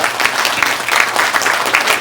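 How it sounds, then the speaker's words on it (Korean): Dense audience applause for an author at a lecture and book-signing event, steady and close throughout. "저자님께 큰 박수 부탁드리겠습니다"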